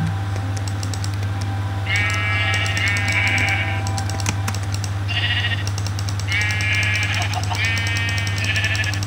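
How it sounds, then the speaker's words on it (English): Repeated sheep bleats in the video game Minecraft, several separate calls over a steady low hum with keyboard clicking, while someone talks. "There's a sheep over there. There's a whole bunch of sheep."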